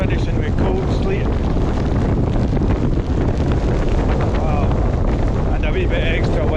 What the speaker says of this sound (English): And a wee bit extra wind.